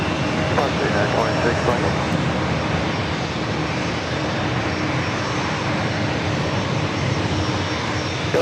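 An airliner arriving from Tokyo Narita at San Diego airport gives off a continuous, loud engine roar, with radio voices talking over it.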